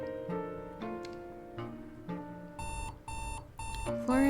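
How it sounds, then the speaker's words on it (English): Tinny chiming melody from a game's alarm clock rings repeatedly in even bursts, in a quiet game scene where music plays softly underneath. "Florence Yeo, 25 years old, 7 a.m., alarm's going off"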